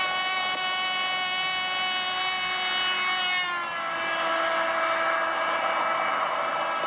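A train horn sounds loud and sustained as the train passes, its pitch dropping noticeably midway as it moves away, with rail rumble underneath.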